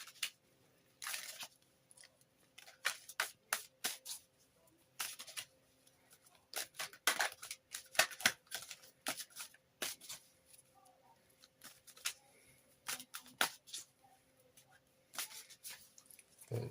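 Tarot cards shuffled by hand, with soft irregular riffles, snaps and flicks close up over a faint steady hum, the bursts coming in uneven clusters for a long stretch.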